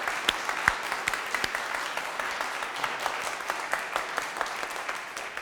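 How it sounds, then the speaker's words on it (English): A chamber orchestra's players applaud themselves, a brief round of scattered clapping at moderate loudness with a few sharper claps early, fading slightly toward the end without talking. "Give ourselves a round of applause"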